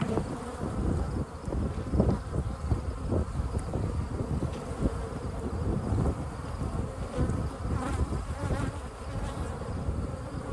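Honey bees buzz steadily and densely close by around an opened hive frame, a continuous droning hum with wind rumbling underneath.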